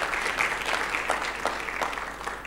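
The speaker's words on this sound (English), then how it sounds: "Let's give them a warm round of applause." Audience applause at an opening plenary of an annual learning event, a dense, steady wash of clapping from a large crowd, fairly loud and continuous throughout.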